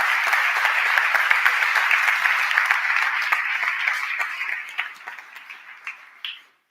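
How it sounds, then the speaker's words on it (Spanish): An audience at a Spanish talk on marketing with ChatGPT breaks into sustained applause, dense and loud, holding steady before thinning into a few scattered final claps and fading out. "me gustaría pedir, ya que tengo el poder del micro, un aplauso para los chicos"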